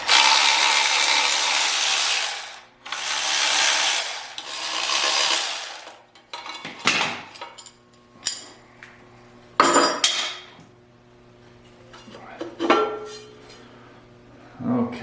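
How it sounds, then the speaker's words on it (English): An impact wrench loosens mounting bolts on a Mercedes 6.3 engine during disassembly, with two long, loud rattling runs followed by metallic clanks and scraping of tools and parts nearby. "I use my impact just to loosen these up"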